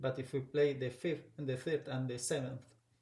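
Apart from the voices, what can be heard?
None of the usual background noises is heard.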